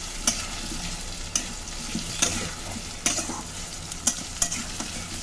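Grated ginger and garlic fry in a pan with a constant, close sizzle, broken by regular scraping strokes of a spatula about once a second; no voices.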